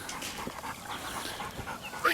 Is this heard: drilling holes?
no